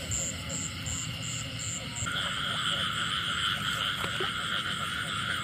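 A garden toad and frogs call at night early in the rainy season, forming a steady, dense chorus of continuous trilling close by with no pauses.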